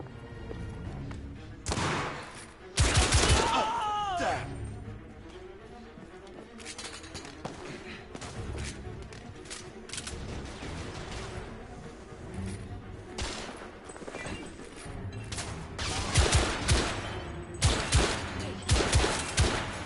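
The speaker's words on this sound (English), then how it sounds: "Well, not shooting very good on that one. I need to reload." Gunfire from the PS4 video game The Order 1886 comes as dense bursts of game shots and impacts over a busy, continuous soundtrack, heaviest near the start and the end.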